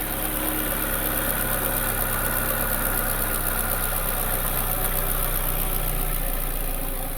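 Steady idle of a 2015 VW Jetta engine, a continuous close mechanical hum with a faint rapid ticking from the valve cover area running underneath, no voices.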